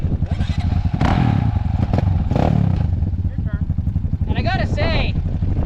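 A Kayo K2 230 dirt bike engine runs loudly close by after electric start, a steady throbbing idle with a few revs, while someone talks over it.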